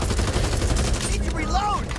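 Dense, loud gunfire from the zombie-horde shooter Back 4 Blood, a rapid burst of shots packed together, with a short high whining effect near the end.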